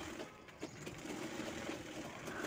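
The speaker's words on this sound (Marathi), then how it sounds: "कपडा फोल्ड करून शिलाई घ्यायची आहे या ठिकाणी." A sewing machine stitches the folded fabric hem along the bottom of a child's umbrella-style frock, running as a steady continuous whirr at close range with no talk.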